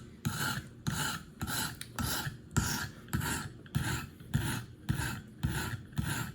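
Gerber Paralite knife blade drawn across a coarse KME sharpening stone, a steady rhythm of about ten close, rasping strokes, each a gritty scrape, with no talk.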